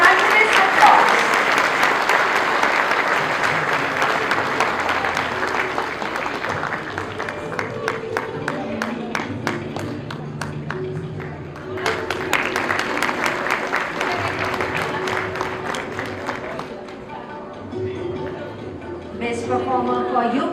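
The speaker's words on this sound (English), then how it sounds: "Acknowledge the hard work of little champions with thunderous applause." Loud, sustained applause from an audience of many people at a school musical performance by young kindergarten students, dense clapping that swells and eases in waves over about twenty seconds, with faint voices underneath.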